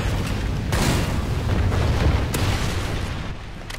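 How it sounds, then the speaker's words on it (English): A Trinity rocket strike explosion in a video game, a loud rumbling boom with sharp blasts layered over a sustained low roar that gradually eases toward the end. "Friendly Trinity rocket inbound."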